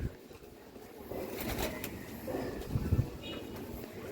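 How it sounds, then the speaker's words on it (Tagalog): A flock of more than 50 pet pigeons on a roof deck coo softly in low, murmuring bursts against a faint outdoor background, with a few brief scuffling sounds. "mga alagang kalapati more than 50 yan"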